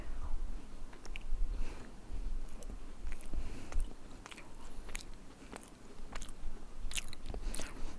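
Close, quiet chewing of pastry filled with handmade grated-pineapple jam, soft bites and mouth sounds repeating irregularly over several seconds with no talking.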